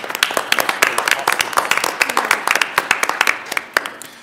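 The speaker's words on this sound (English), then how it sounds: "Let's give them a round of applause." Audience at a school board meeting applauding in a steady patter of many hands clapping, moderately loud and continuous throughout, with no voices on top.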